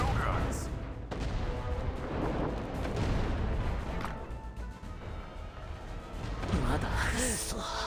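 Gunfire and artillery blasts from new weapons being tried out in the WWA RTS real-time strategy game, USA vs Japan battle, with loud, dense crashing shots and explosions running continuously throughout.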